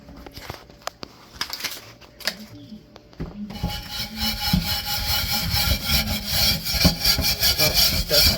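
Surface rust on an old cast iron pan is scrubbed off with a fairly soft brush. A few scattered scrapes and knocks come first, then a steady run of rough, rhythmic rubbing strokes, close and alone.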